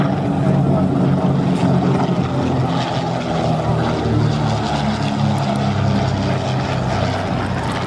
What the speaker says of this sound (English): the replica Mew Gull, the red one, built as an accurate reproduction of an example that was rebuilt in the mid-1930s for a new owner, Charles Gardner.